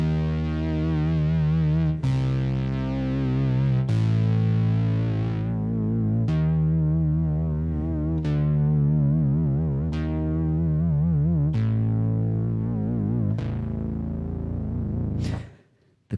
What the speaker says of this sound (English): And this is actually postponing the vibrato effect. It kicks in later, according to the position of the slider.